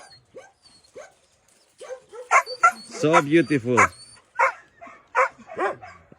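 Shelter puppies bark, yip and whimper in a cluster of short, high cries, some close and loud and some fainter, while someone speaks briefly among them.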